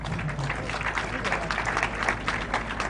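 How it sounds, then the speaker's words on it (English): An audience at a university inaugural lecture claps briefly, a short burst of scattered, uneven handclaps with a low hum underneath. "you can clap"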